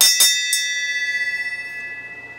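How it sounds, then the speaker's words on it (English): A bell rung by hand, two or three sharp strikes in quick succession followed by a long, clear ringing decay that fades gradually. "I'm going to ring the bell myself."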